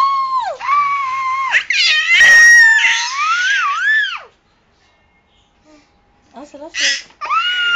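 A young girl lets out long, loud, wavering screams in close bursts, separated by a brief pause, with another voice speaking quietly between them.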